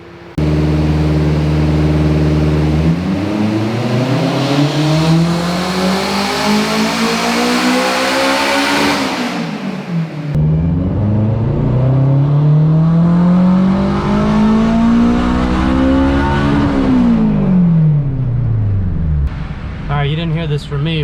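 Turbocharged Acura RSX with a quarter million miles, revving hard on a dyno: the engine climbs in pitch through long sustained pulls toward the rev limiter, drops off, then winds up again, loud and close with a rushing roar.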